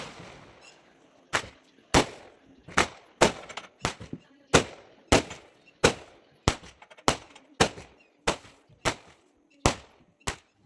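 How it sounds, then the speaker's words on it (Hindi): A string of sharp Diwali firecracker bangs goes off one after another at irregular intervals in a village, each crack loud and close with a brief echoing tail, no voices. "और ये देखो इधर चल रहे हैं पटाखे ही पटाखे"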